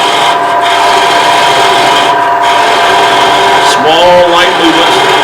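Shallow fluted gouge cutting a small wooden bowl on a lathe near a jam chuck, a continuous close scraping hiss with brief louder catches, under a speaking voice.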